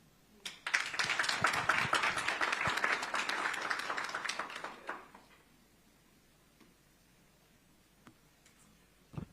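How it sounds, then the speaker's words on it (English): An audience at a campaign event for an African Union candidacy bursts into loud, dense applause for about four seconds, then it fades to scattered claps and quiet. "A round of applause, please,"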